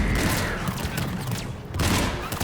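Dense gunfire crackles through a firefight in Mass Effect 3, loud and continuous with no clear gaps between shots.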